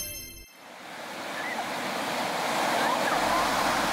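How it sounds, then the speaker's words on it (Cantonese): Waves breaking on the sandy Shonan coast at dusk with a sea breeze, a steady broad wash of surf and wind that swells gradually louder after a brief muffled opening, no voices. "喺黃昏嘅時間行下海邊，吹下海風"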